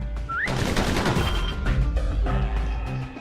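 Rapid pistol fire in the game Bastion, a dense run of sharp, close shots that crackle in quick bursts with brief gaps between volleys, loud throughout.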